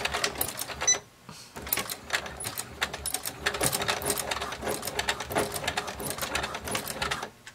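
Sewing machine stitching a bag lining, a steady rapid mechanical chatter that runs continuously after a brief pause near the start, close and fairly loud, without any talking.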